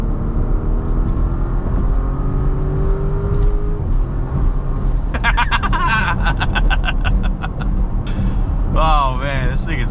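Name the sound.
Porsche Cayenne S V8 engine revving after downshift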